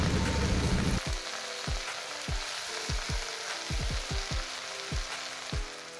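Washed susni greens sizzle loudly as they hit browned onions frying in oil, a steady crackling hiss broken by repeated sharp ticks and pops, with no voices present.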